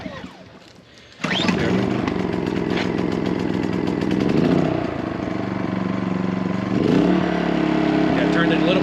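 A MaxPeedingRods 3200-watt inverter generator cranks and starts after a second of quiet, then runs steadily and loudly close by. Its engine note shifts as the load and choke change, and the running tone is broad and buzzy.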